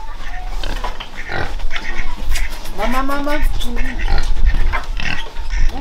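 Pigs on a Vietnamese farm grunt and squeal in short bursts, close and loud, with people talking over and between the animal calls.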